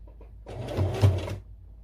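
A sewing machine stitches across two loose fabric pieces of a zippered pouch in one short, close burst of motor whirring lasting under a second, with quiet room tone before and after.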